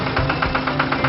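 A cartoon harvester's engine runs in a vegetable field with a close, steady rumble and a rhythmic knocking pulse throughout, no voices.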